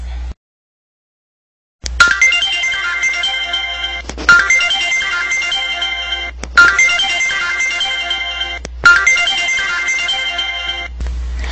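A telephone rings in an English-lesson phone conversation, a loud electronic ringtone repeating in four even bursts after a brief silence, alone with no voices.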